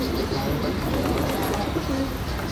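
Pigeons coo softly and repeatedly over a steady rustling background, with a few faint chirps mixed in.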